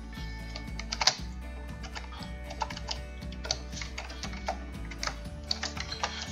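A password is typed on a computer keyboard: quiet, irregular key clicks close by, with a few sharper taps among them.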